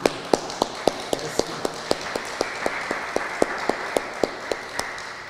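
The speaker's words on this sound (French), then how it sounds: "applaudissements." A slow, evenly spaced series of sharp single claps, roughly four per second, rings out in a room during a Tuesday Bible study session, with a soft wash of scattered clapping behind the steady beat.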